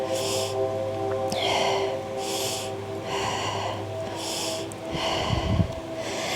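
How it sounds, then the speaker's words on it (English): Deep, slow breaths during a yoga pyramid pose, drawn in and pushed out in a steady repeating rhythm about every second and a half, close to the microphone over a soft, constant musical drone. "Let's do 5 deep breaths here."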